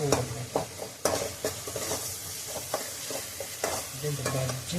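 Tomatoes sautéing in a pan at home: a steady sizzle, fairly quiet and close, with repeated spatula scrapes and stirring knocks at irregular intervals and no talking.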